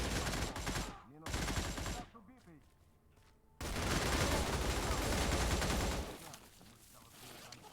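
Bursts of AN-94 Abakan rifle fire in a shooter video game, two short loud volleys, a quieter gap, then a long sustained full-auto stream before it tails off.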